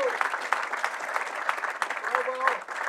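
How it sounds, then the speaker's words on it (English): Applause from the audience at the ETH Paris hackathon closing ceremony, crisp individual claps standing out within steady clapping from a modest crowd, with a voice briefly heard over it. "So really big hand of applause for the ETH Global team"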